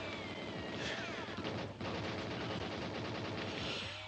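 Rapid automatic gunfire in a factory-level video game, a dense continuous rattle of shots with explosive bursts layered over a steady low rumble, loud and close with no voices.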